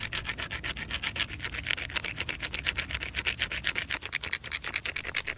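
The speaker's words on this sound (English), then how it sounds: "The next step is to abrade this blank against the grinding stone." A bone blank is rubbed back and forth against a grinding stone in steady, rhythmic rasping strokes, close and continuous, with no talking.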